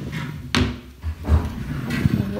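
A wooden dresser drawer in a baby's bedroom slides open and shut, giving a sharp knock near the start and softer wooden bumps after, close and fairly loud with no talking.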